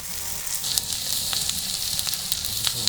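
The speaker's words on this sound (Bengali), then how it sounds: "মশলাগুলো একটু নেড়ে চেড়ে ভেজে নিব।" Onion with three cardamom pods, two pieces of cinnamon and two cloves frying in oil for a tengra fish curry while being stirred: a continuous bright sizzle, close up, with faint scraping ticks and no talking.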